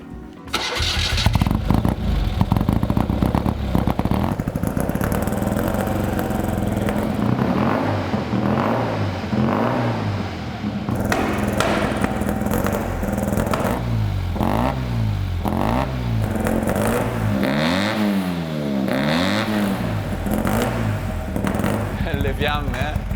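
A Fiat 500 with an 800 cc engine and sequential gearbox cranks and catches, then revs repeatedly in rising and falling surges, loud and close, with people talking over it.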